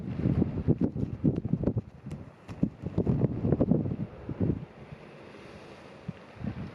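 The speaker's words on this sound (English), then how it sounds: "Wish that wind would bugger off." Wind blasts hit the microphone on a shore at Bossington, a series of loud low rumbling bursts that ease and return, with calmer moments toward the end and no speech.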